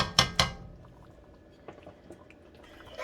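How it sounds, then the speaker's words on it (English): A spoon clinks and scrapes against a pot of oxtail cooking on a stovetop over low to medium heat, with two sharp knocks at the start, softer taps in the middle and another knock at the end. "we're going to give that a good stir."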